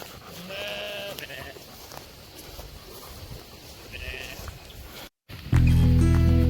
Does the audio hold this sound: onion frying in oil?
no